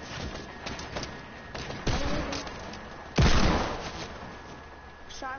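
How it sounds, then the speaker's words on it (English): Several hand cannon shots fire in a video game, scattered sharp reports with one loud close blast near the end, over steady game noise and background hum. "Shot him with a hand cannon."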